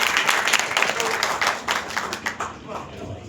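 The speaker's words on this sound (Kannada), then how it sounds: "ಬರಲಿ ನಮ್ಮೆಲ್ಲರ ಪ್ರೀತಿಯ ಚಪ್ಪಾಳೆಗಳು" Audience at a public assembly applauding, a crowd of hands clapping in a lively, uneven patter that gradually thins, with a voice speaking over it.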